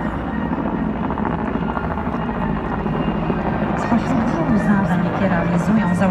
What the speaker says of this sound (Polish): W następnej kolejności widzimy śmigłowce z pierwszej brygady lotnictwa wojsk lądowych